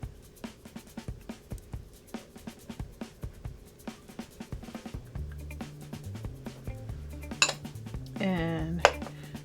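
A utensil clinks and scrapes rhythmically against a bowl while sour cream and mayonnaise are stirred together, close and fairly quiet, with a brief voice near the end.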